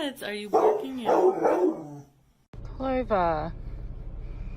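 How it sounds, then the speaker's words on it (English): A dog barks in a short volley of sharp yips and bow-wows, loud and close, after a person speaks. "What are you barking at?"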